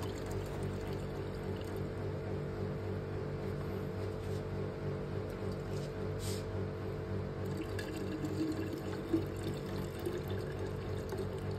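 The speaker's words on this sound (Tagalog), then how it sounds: "pwede na po nating lagyan ng tubig ang ating cooling system na may halong" Water mixed with radiator cleaner runs steadily into a car engine's cooling system after an overhaul, a continuous low trickle and splash with occasional drips, close and moderately quiet, with no talk.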